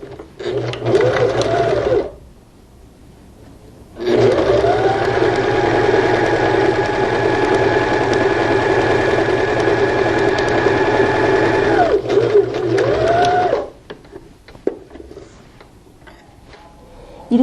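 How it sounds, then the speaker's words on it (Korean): A sewing machine runs steadily while stitching a patchwork bath mat, with a short burst first, a pause, then a long continuous run of about ten seconds humming loud and close before stopping. "그래서 저는 지금 바느질 시작하겠습니다."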